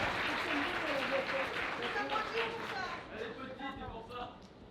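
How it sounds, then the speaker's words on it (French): Audience at the Canthrofur 2025 furry convention opening ceremony applauds a safety team member in yellow; steady, dense clapping fills the room throughout, with talk from the stage running over it. "On l'applaudit."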